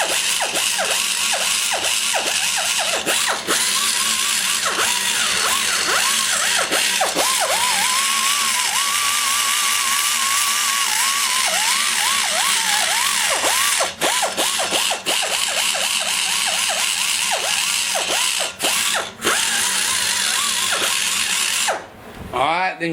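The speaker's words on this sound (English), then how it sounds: "keep the cutter speed low." Rotary cutter trimming inside a cylinder head, a loud continuous high-pitched grinding whine with wavering pitch and brief dips, running throughout with a voice faintly underneath.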